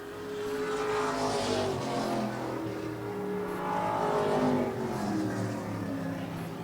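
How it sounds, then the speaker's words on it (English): Modified race cars in a Ground Pounders heat race, engines roaring continuously as the pack laps the track, loud and steady with rising and falling passes. "Two laps to go to wrap up the modified Ground Pounders 2 heat races"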